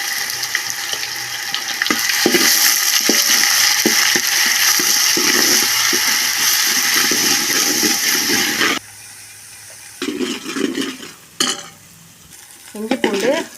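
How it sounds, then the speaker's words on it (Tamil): Ginger garlic paste with water sizzles and bubbles loudly in a hot pan while being stirred for a layered biryani gravy, a steady hiss that drops abruptly to a quieter simmer, followed by spoon scrapes and brief bursts of frying. "இஞ்சி பூண்டு அந்த தண்ணி சவுண்டெல்லாம் கொஞ்சம் அடங்கிடுச்சு."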